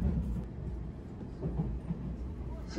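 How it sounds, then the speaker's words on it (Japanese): Low, steady rumble of a Japanese SPACIA X limited express train rolling along the rails from Asakusa, heard from inside, with faint clatter and a voice talking softly in the background. "新型特急ステーション X にご乗車いただきまして誠にありがとうございます"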